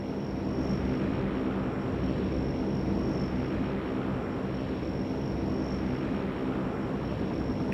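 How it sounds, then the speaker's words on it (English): A Mi-24 helicopter in a video game flies in at full speed, a dense, steady, loud engine roar with a constant thin high whine running through it and no voices. "Mi-24 going in at full speed."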